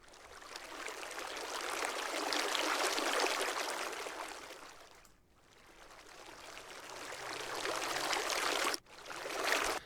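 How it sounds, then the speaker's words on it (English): Flowing water rushes in a dense, steady broadband wash, swelling and easing in waves, with two brief dips where the flow cuts out before resuming close and loud. "This is probably one of my favorite recordings of water that I've ever done"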